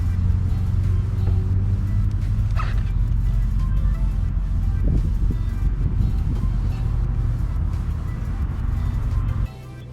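A 2020 Honda GoldWing Tour DCT motorcycle idles close by, its engine a steady, loud low rumble that runs unbroken and drops off sharply near the end.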